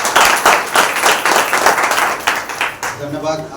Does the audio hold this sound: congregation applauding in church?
yes